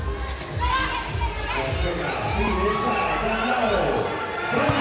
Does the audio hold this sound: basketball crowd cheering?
yes